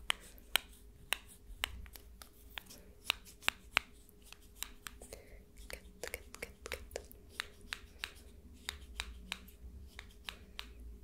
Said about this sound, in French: je vais quand même te montrer un peu les ciseaux